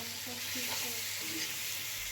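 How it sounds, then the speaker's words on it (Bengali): Beans, tomatoes, onion and garlic frying together in a pan, giving a steady, soft sizzle with faint stirring scrapes, close but quiet and continuous throughout. "তারপর এগুলোকে একসাথে খুব ভালোভাবে ভেজে নেব।"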